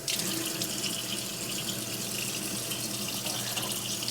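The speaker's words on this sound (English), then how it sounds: "And then it says just to rinse off all the residue on the outside of the filter." Tap water runs steadily, rinsing the outside of a Membrane Solutions water filter, a continuous close splashing stream in a sink with no talk.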